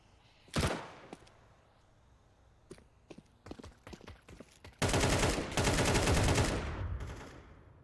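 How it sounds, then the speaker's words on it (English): MP5 gunfire in a Counter-Strike match: a loud single shot near the start, then a string of sharp scattered shots, and a dense sustained burst of rapid fire that fades out at the end. "It's just going to be a quick tap out there from the MP5."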